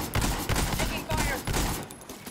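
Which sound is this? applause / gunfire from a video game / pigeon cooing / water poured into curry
gunfire from a video game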